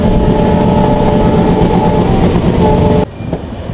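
The Madhumati Express runs at speed past Srinagar station on the Padma Bridge rail line in Bangladesh, giving a loud, steady rumble and rattle of wheels and carriages that drops off sharply near the end.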